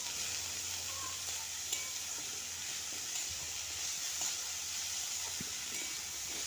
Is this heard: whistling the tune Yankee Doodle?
no